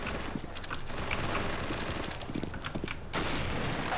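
A sniper rifle goes off in Counter-Strike: Global Offensive amid ongoing gunfire, with sharp bursts and rattling shots layered over a dense, noisy game soundscape and no talking.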